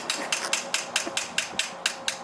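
A hammer strikes metal in a steady rhythm, about ten sharp ringing blows in quick succession, close and fairly loud, while repairing the brakes on a Dodge Hellcat.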